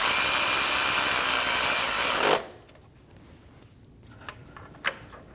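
Power tool snugging a nut onto the alternator stud of a 2012-2022 Volkswagen Passat 2.5L five-cylinder, a loud steady whirring run that cuts off abruptly after about two seconds, followed by faint metallic clicks and handling noises.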